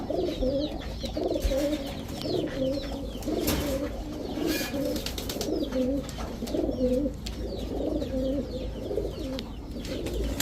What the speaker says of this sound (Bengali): এই হচ্ছে নর, এই হচ্ছে তার মাদি, সব পুরান জাতের কবুতর, সব রেজাল্টেড কবুতর।